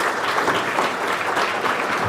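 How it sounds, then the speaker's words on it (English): An audience applauds panelists at the close of a discussion session, with steady, dense clapping filling the room throughout at an even level, no voices standing out. "Again, a round of applause for yourselves."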